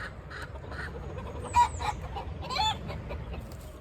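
A hen clucking and squawking in protest while its feathers are plucked during delousing for a chewing-lice infestation, with short rhythmic clucks and two louder squawks, close up, over a steady background hum.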